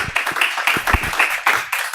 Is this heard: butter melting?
no